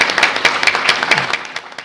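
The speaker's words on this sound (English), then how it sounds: "We'll give each one a round of applause." Audience applause at a college business competition event, a steady burst of many hands clapping, loud and close, tapering slightly toward the end.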